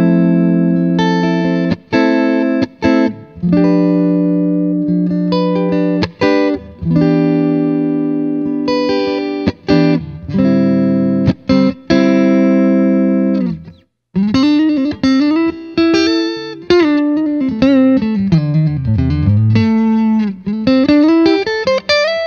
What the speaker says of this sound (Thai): เดี๋ยวผมจะเล่นทั้งเสียงคลีนนะครับเสียงโอไดแล้วก็เ